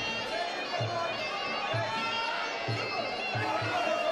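Crowd noise at a Tear Up at the Tower fight night, a steady murmur of chatter and hubbub under a commentator's continuous voice, with a few dull thuds punctuating the background.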